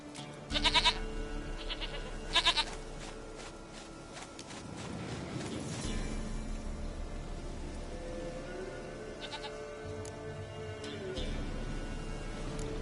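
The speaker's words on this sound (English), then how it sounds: "Goat of mine, dearest, sweetest goat." Goat bleats from The Witcher 3, two short bursts early and softer calls later over steady game ambience and background music.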